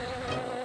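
A bee buzzes steadily and close, a dense continuous drone filling the moment with no voices over it.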